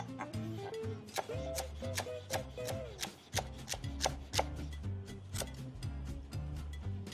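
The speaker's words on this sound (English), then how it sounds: "I know it's a lot of chopping, but don't use anything like a food processor or anything else like that." Vegetables for giardiniera are chopped by hand with a knife in quick, regular taps, heard beneath prominent background music.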